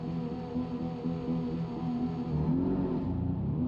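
Porsche GT3 RS on launch control in the driving game BeamNG Drive: a steady, rich engine drone that swells into louder revving near the end, heard alone and close.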